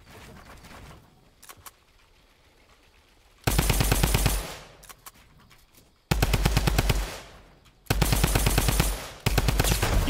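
Drum gun bursts in the Fortnite video game: three long, loud automatic volleys of rapid evenly spaced shots with short gaps between them, following a quieter stretch with a few faint clicks.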